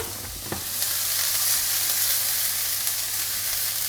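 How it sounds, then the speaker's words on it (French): Onion dropped into hot clarified butter in a pan, a soft clink and then a loud, steady sizzle that holds without a break. "On va attendre que le beurre chauffe bien et on va commencer à faire cuire d'abord l'oignon"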